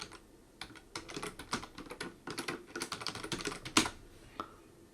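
Rapid keystrokes on a computer keyboard as a password is entered, an irregular patter of close clicks in bursts with a sharper tap near the end, no voices.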